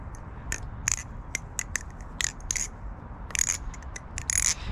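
Dry, unlubed Alien mechanical keyboard switches are typed on in bursts of crisp, close clacks with short pauses between runs of keystrokes.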